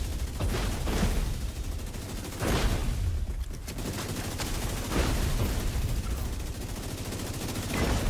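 Shotgun blasts during a fight in the video game The Division 2, several heavy shots spaced a second or two apart over a steady background of other gunfire, moderately loud and somewhat distant.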